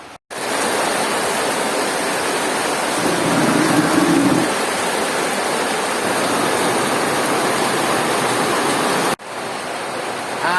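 Steady, heavy rain pours down as a dense, continuous hiss with no break, loud and close, with no voices present.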